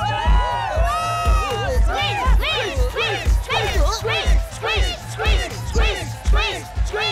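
A crowd in a cartoon repeatedly shouts a name in rhythmic chant over a pounding beat, loud and close, with excited voices rising and falling.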